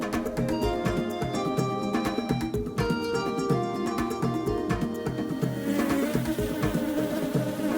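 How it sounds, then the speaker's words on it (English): A bee's buzzing drones steadily and loudly throughout, a dense continuous whine layered with tonal sounds, close and without any talking. "It appears that a bee is distracting Gerard Giraffe."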